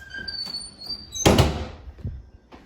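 A pantry door in an old house opens and swings shut, a sharp nearby thunk with a brief rattle standing out against faint room noise.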